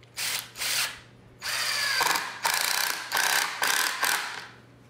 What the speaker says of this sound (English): currently I'm putting in 3 screws